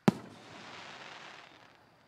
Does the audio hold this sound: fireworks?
yes